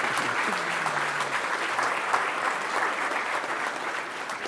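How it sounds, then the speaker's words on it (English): A large conference audience at a tech keynote gives warm, steady applause, a dense wash of many hands clapping at an even level for several seconds. "give yourself a very warm welcome applause"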